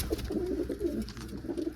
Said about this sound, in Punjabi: ਇਹ ਪੰਜ ਕਬੂਤਰ ਜਿਹੜੇ ਆਪਾਂ ਨੇ ਪੱਟੇ ਵੇ ਇਹ ਖੁੱਡੇ 'ਚ